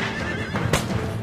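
Mustang horses give a loud, close neigh with wavering whinny tones, accompanied by a burst of hoof clatter and movement noise.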